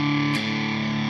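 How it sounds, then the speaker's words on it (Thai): Distorted solo lead guitar tone through a Tank-G Chocolat multi-effects processor, a sustained, saturated tone with a brief pick attack near the start, steady and loud with no talking. "เป็นเสียงแตกโซโล่เนาะ"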